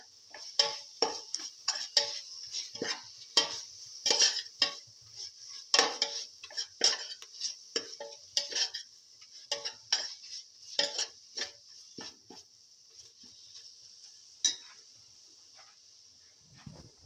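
A spoon stirs salt into a chicken lemon green chili pilaf, making close, steady scraping and clattering strokes against the pot that repeat in a quick, uneven rhythm for the whole stretch before trailing off at the end.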